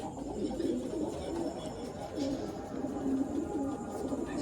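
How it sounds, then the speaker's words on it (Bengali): Pigeons cooing in a loft housing fancy breeds, including a Chatiyal pigeon, with soft repeated low coos and rustling close by over steady background noise. "চটিয়াল একটা পায়রা"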